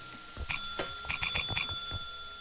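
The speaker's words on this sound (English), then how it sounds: "You're making me confused with all the bell rings!" Bright bell strikes ring out in quick repeated clusters, several sharp metallic dings with shimmering overtones over a low background murmur.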